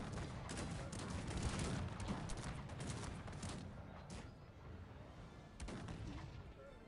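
Cannon and artillery fire from the Cossacks 3 strategy game, a dense, continuous rumble of overlapping booms and volleys across a battlefield, fairly loud throughout with sharper blasts standing out near the start and end.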